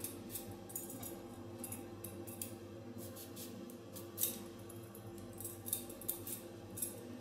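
A knife peels the skin from an aubergine in strips, making faint, close scraping and slicing strokes in a quiet, irregular rhythm.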